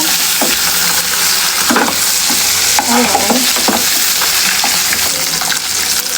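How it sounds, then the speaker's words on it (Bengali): Fish fat frying in oil makes a loud, dense, continuous sizzle up close, broken by a few soft stirring scrapes, with nobody talking. "আমার কিন্তু মাছের তেলগুলো ভাজাতে দেখো কত তেল বের হয়েছে"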